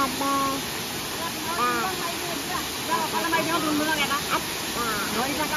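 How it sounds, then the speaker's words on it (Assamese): Kakochang Waterfall pours as a constant broadband rush of falling water, steady and fairly loud, while people talk close by over it. "ও ভগৱান এই জলপ্ৰপাতটো লোকৰ ভিডিঅ'ত দেখি থাকো"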